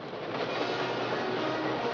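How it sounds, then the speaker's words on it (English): A steam locomotive train in a 1952 Western forest setting rolls steadily closer across a trestle, a continuous broadband rumble and rattle with no clear clacks, loud and unbroken throughout. "Boss, it is a train."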